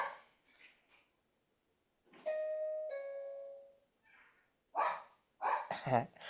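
A dog barks a few times nearby, mixed with a chiming doorbell-like tone and faint background voices.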